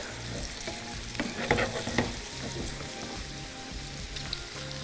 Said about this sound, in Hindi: थोड़ा सा और मैं इसको फ्राई करूँगी और फिर इसको रिमूव कर लेंगे।